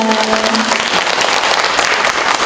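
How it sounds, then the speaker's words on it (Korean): A library anniversary policy concert audience gives loud, dense applause for the speakers, a continuous roar of many hands clapping at once, close and sustained throughout. "여러분 좋은 메시지 전해주신 7분께 다시 한번 큰 박수 보내드릴까요?"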